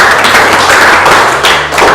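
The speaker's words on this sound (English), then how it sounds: "let's give a small round of applause" A classroom of students gives a short round of applause, loud dense clapping close by that holds steady for a couple of seconds without any talk.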